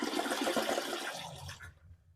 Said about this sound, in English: We're going to flush it one more time just to show you.